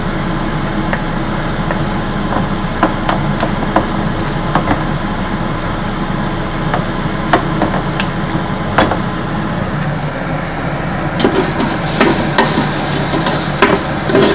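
Mutton curry masala of onion, tomato, ginger-garlic paste and curd frying in a little oil inside an Instant Pot, a steady low sizzle punctuated by repeated sharp scrapes and taps of a spoon against the pot while stirring.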